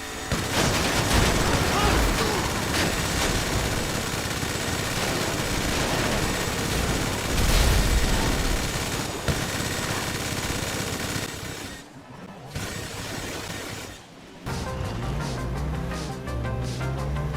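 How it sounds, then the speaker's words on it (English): A minigun fires in GTA in sustained, dense, roaring bursts that run almost without a break, briefly cutting out twice near the end before the fire resumes, loud and close. "hoping to shred him with my minigun"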